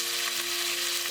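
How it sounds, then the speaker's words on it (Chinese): Marinated diced chicken stir-fries in hot oil in a preheated wok, giving a steady, loud, close crackling sizzle with no pauses. "把腌好的鸡丁放进来先炒一下"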